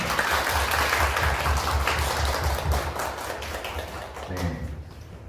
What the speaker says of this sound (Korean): 우리 그분들한테도 박수 한번 보내주시죠.